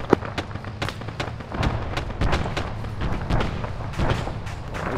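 Gunfire in the military video game Arma: a rapid series of sharp shots and booming reports, some close and others more distant, cracking in irregular bursts for the whole stretch.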